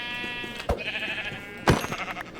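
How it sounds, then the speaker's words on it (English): Two short sheep bleats from Minecraft, one near and a louder one about a second later, over a faint game background with no talking. "I heard another sheep."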